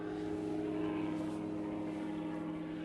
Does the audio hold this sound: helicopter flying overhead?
yes